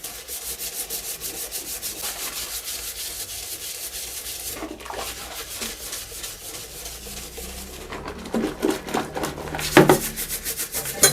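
Steady rhythmic scrubbing of a bathroom during domestic housework in Taiwan: continuous back-and-forth brushing strokes, close and moderately loud, growing slightly harder and more uneven near the end, with no talking.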